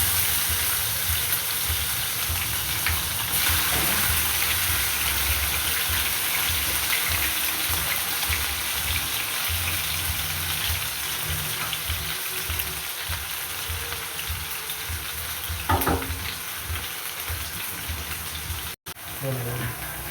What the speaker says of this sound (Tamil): இப்போ வந்து நான் இதை வந்து நல்ல வடிவாக அதுக்காக பிரட்டி விடுவேன். நல்லா வதங்கணும்.